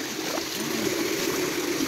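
Water flowing through a previously dry drainage channel, a steady close rushing and trickling stream with a continuous, even gurgle.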